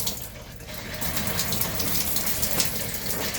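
Water sprays steadily into a camper sink, a continuous close hissing gush that holds at an even level for the whole stretch.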